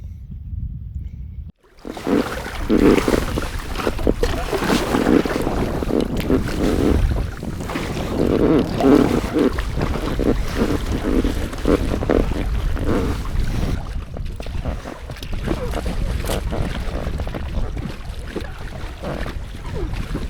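Steady wind buffets the microphone while choppy sea water slaps around a kayak off Holy Island, a loud, continuous rush that runs throughout after a brief quiet start.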